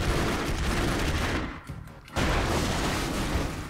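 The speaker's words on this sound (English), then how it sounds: "Logan, can you shoot these, barrels real quick?" Rapid gunfire from the side-scrolling game Broforce as barrels are shot, a dense crackling burst of shots that drops out briefly mid-way before resuming loudly.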